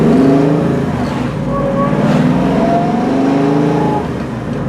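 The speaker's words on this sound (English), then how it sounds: "Car's got a beautiful exhaust note." A 1966 Ford Mustang Fastback with a Flowmaster exhaust and 5-speed revs and accelerates up through the gears, its exhaust note rising and falling loudly up close.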